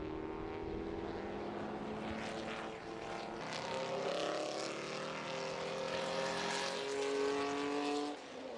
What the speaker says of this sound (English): A 3-litre Capri leading a GT40 at the moment.